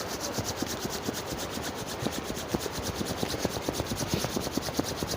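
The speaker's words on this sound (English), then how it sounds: "Rub your hands together." Two palms rub briskly together during a guided qigong breathing practice, producing a close, steady rasping swish with a quick back-and-forth rhythm, heard alone against a faint background hum.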